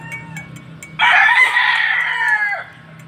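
A fighting rooster of a Bacolod winning line, kept on a farm in Romblon, crows once loudly and close, a sustained call of about a second and a half over quiet farm background.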